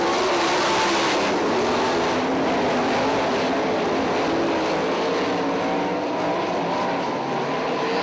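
Midwest All Star 410 sprint cars race at Lawrenceburg Speedway, their engines a loud, continuous high-pitched roar that swells and fades slightly as the pack circles, with no voices over it.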